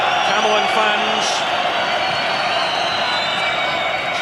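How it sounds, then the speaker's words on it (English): Football supporters at the 1995 Scottish Cup Final between Camelon and Whitburn create a diffuse crowd roar in the background while a commentator talks prominently over it. "plenty of noise being created from the Camelon fans"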